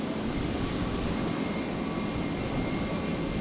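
An Alliance Fokker 70 airliner in pink Breast Cancer Foundation special livery arrives on runway 01 left at Brisbane airport, a steady distant jet rumble that holds evenly throughout.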